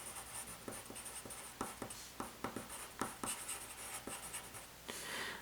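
Chalk or marker strokes on a board during a pre-algebra lesson on consecutive integers, a steady run of short scratchy taps and strokes at close range with no voice.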